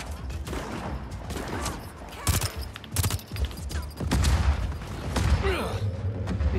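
Enemy gunfire in the video game Just Cause 4 rattles in sharp, loud cracks and short bursts, with several heavy shots standing out over a steady background of combat noise.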